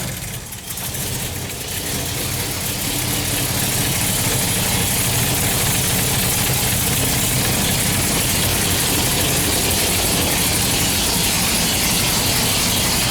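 A very loud car engine on a daily-driver setup run without a radiator cap revs hard and holds a dense, roaring drone close up for the whole stretch, with no break in the noise.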